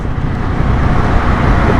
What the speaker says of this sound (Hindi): ज़बरदस्त ट्रैफिक हो रहा है, देखो नीचे।